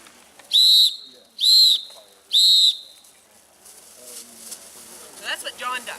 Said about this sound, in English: Anybody know how to blow your whistle if you're lost? Blow your whistle.